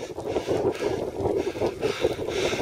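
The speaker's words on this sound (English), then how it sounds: "Wind blowing 100 miles against me" Strong wind buffets the microphone on an unmade gravel road through storm channels, a steady low roaring rumble with gusting swells and no speech.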